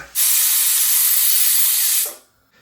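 A pressure cooker whistle blasts a loud, steady jet of escaping steam for about two seconds while cooking country chicken curry, then cuts off abruptly, leaving a faint hiss.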